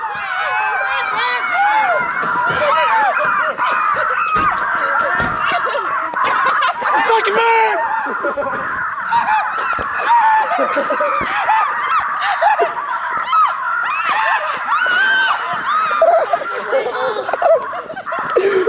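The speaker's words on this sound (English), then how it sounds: "The birds." Geese honking loudly and continuously, a dense flock calling close by for the whole stretch, with people's voices talking intermittently underneath.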